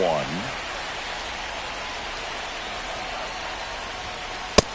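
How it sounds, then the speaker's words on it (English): Steady rain falling in a baseball video game, a continuous even hiss throughout, with a short tonal sweep at the start and a sharp crack near the end. "It feels like we might be headed towards a rain delay if the weather doesn't ease up, Chris."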